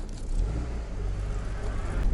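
A Volkswagen Golf 2 with sport suspension drives along, its engine and road noise forming a steady low rumble heard from inside the car, with no talk.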